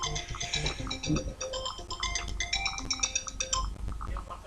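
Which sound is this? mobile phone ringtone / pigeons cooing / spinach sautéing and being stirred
mobile phone ringtone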